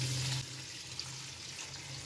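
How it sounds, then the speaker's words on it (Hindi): Water is poured from a glass into a cooking pot while making matar pulao, heard as a short, close, steady pour of liquid that fades after a moment. "इसमें मैं डालती हूँ 1 गिलास पानी"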